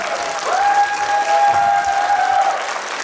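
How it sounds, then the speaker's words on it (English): An audience at a science show gives steady applause lasting about three seconds, with scattered cheering mixed in and a sustained tone ringing through the middle of the clapping. "Раунд оф applause."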